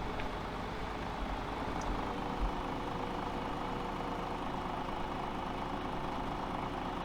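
Truck engine idling in the farming video game Farming Simulator 2017, a steady low rumble that holds level throughout with no speech over it.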